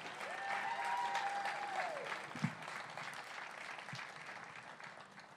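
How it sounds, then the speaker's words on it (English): At a 2021 commencement ceremony, applause for the graduates rolls on as a steady, fairly distant wash of clapping, with a faint tonal whistle early and a couple of soft knocks. "Can we please give one final round of applause in celebration of our graduates?"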